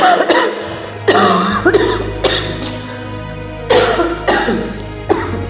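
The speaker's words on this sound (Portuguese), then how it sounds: "Perdão que eu estou com uma tosse alérgica." A person with an allergic cough coughs close up in several harsh, rasping bursts, with brief pauses and a throat-clearing between fits.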